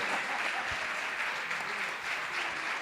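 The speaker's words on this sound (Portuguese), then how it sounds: "E as palmas louvam o Senhor." Church congregation clapping together in praise during a worship service, a steady, dense wash of applause filling the room for a few seconds without a break.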